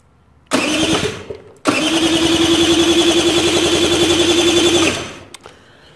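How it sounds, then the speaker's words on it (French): Cold start of a KSR TR SM One supermoto motorcycle: a short first crank and catch, a pause, then the single engine fires and runs at a rapid, loud, steady idle for about three seconds before cutting off. "On va passer au démarrage de la moto."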